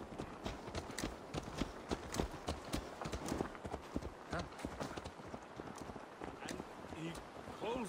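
Horse hooves clip-clop steadily in a video game, a dense, rhythmic run of close, moderately loud hoofbeats, with voices talking over them and a brief whinny-like sound near the end.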